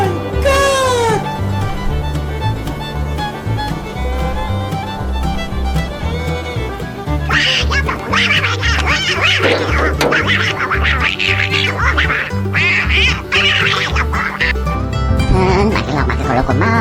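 Cartoon duck quacks ring out repeatedly in a Monkey Farm animation, several loud nasal calls in a busy stretch over steady background music and other animal-like bleats.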